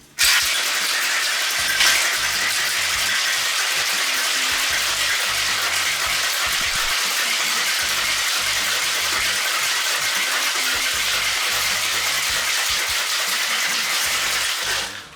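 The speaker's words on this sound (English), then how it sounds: "I'm going to add a lot of ice to my tin here. And shake it extremely aggressively." A cocktail shaker tin packed with ice and egg is shaken vigorously, producing a loud, continuous, rapid rattling of ice against metal that lasts about fifteen seconds.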